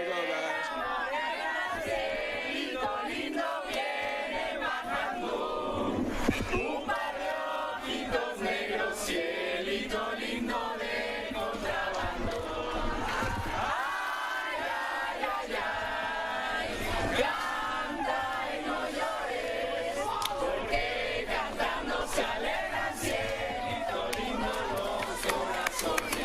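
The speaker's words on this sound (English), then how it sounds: "So we're gonna serenade the crowd for just a moment, and here we go, guys." A race team sings loudly to a crowd in a long, dense wash of voices that shout and chant with no breaks, keeping up a full and steady level all the way through.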